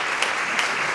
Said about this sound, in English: let's give a round of applause to welcome Reggie Jackson, who's here with us.